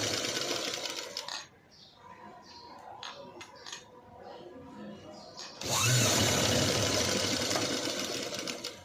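A sewing machine stitches a sleeveless cut-work blouse with a loud, steady mechanical whir close up. It stops briefly for a stretch of quieter fabric handling and taps, then starts again.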